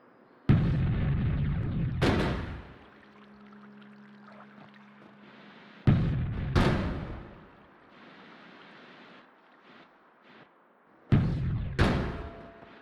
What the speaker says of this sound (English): like, lobbing a missile.